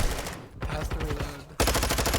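Rapid bursts of automatic gunfire in a Call of Duty match, dense and loud, with a short lull before a sudden renewed volley near the end.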